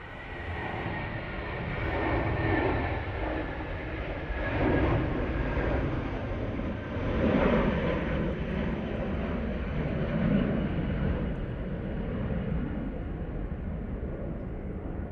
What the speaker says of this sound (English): A320 now departing.